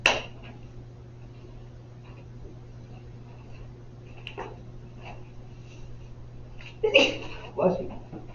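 A single sharp sneeze bursts out at the start of a quiet physics lecture room with a low steady hum, followed later by a couple of shorter, softer sneeze-like bursts.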